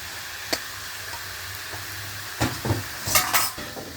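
Noodles being stir-fried with fried tofu and fish strips in a pan: steady close sizzle throughout, with scraping spatula strokes and clattering tosses bunching toward the end.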